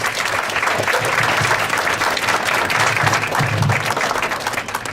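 Steady applause from an audience at a community college demo day fills the whole stretch, dense and even with no voices over it.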